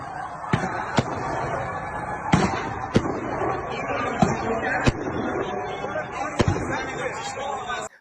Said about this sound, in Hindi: जरा इस आतिशबाजी को आप भी देखिए